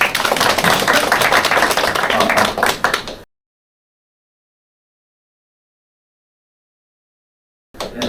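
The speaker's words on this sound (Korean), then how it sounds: "박수 한번 부탁드립니다." Audience applause at a marathon injury-prevention seminar for running club members, a few seconds of brisk crowd clapping that cuts off abruptly into silence, then briefly resumes at the end.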